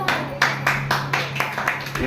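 An audience at a spiritual satsang gathering claps in a quick series of sharp, separate bursts, moderately loud and close, with a steady low hum underneath.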